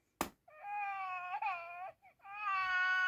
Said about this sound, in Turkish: Burada Cry Baby'm var. Ağlıyor. Cidden ağlıyor.